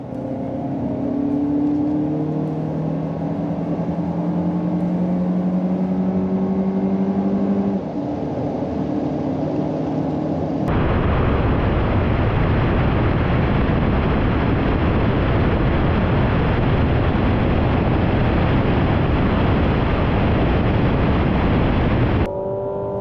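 Lexus TX500h, Mazda CX-90 PHEV and Acura MDX Type S SUVs accelerate hard in a highway roll race, heard from inside as a steady loud engine and road roar with rising whine that surges louder halfway through.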